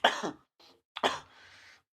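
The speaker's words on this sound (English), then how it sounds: "Everybody Yeah. else coughing on camera" A couple of short, dry coughs with a throat-clearing rasp between them, close and fairly quiet.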